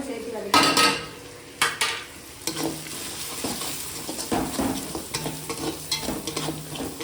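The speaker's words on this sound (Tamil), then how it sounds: "மஞ்சள் தூள், குழம்பு மிளகாய் பொடி, சில்லி பவுட்ரு, மல்லித்தூள், அப்புறம் பார்த்தீங்கன்னா கரம் மசாலா இதோட சேர்த்து வதக்கலாம்." Ginger garlic paste with turmeric, chili and coriander powders and garam masala sautés in a pan, sizzling beneath repeated loud scrapes and clanks of a spoon against metal, uneven in rhythm.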